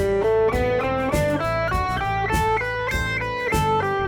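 Guitar runs up and down a Dorian scale in quick, evenly spaced notes over an iReal Pro drum and bass backing, with steady percussive hits underneath, loud and continuous throughout.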